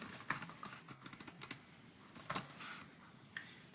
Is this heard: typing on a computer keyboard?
yes